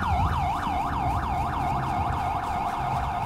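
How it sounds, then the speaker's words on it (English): A police siren in the video game GTA 5 wails steadily in a rapid, repeating up-and-down sweep over a low engine rumble, loud and continuous without a break. "Or I guess this siren just gonna stay on"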